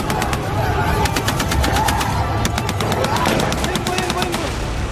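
Dense, rapid automatic gunfire fills an ambush on a military convoy, loud and continuous with overlapping bursts and some faint background activity throughout.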